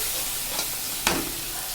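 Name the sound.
stirring spice masala with water in a pan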